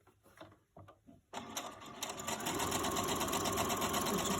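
Sewing machine stitching a short seam across folded fabric, a few soft hesitant clicks first, then a steady fast mechanical whir and rattle, close and moderately quiet, with no talk.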